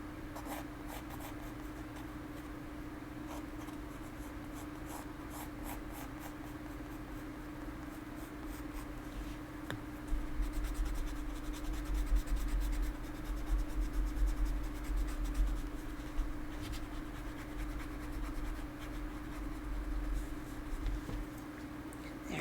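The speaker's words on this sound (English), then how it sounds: "that's probably good enough for the pencil stuff" Pencil sketching a hawk on watercolor paper, a steady close scratching and scraping that runs without pause and grows louder partway through, with a faint hum underneath.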